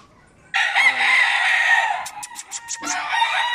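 A rooster crows loudly and close by, one long strained call that breaks into a few choppy notes before trailing off.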